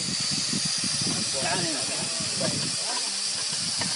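A pressure cooker valve is opened on a pot of mazbi meat, releasing a loud, continuous broadband hiss of escaping steam that fills the whole stretch, with voices talking faintly beneath it.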